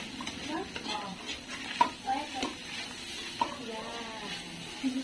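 Mussel sisig being stirred in a pan: a faint sizzle under repeated scraping and clinking of a utensil against the pan, close by, with a voice talking faintly in the background.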